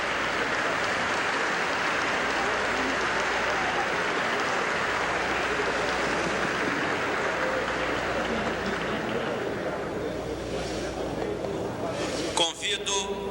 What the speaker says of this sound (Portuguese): Neste momento, palmas no plenário.